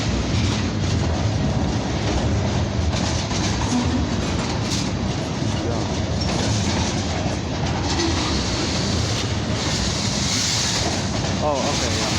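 A CN freight train departs Dorval, rolling past close by with a loud continuous rumble, rhythmic clickety-clack of wheels over rail joints and brief squeals, while a person talks over it.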